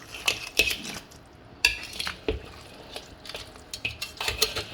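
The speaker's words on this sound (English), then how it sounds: "now we're going to mix it up well" A spoon stirs crab curry in a cooking pot, giving scattered scrapes and light metallic clinks at an uneven pace, close by and quiet, with no talking.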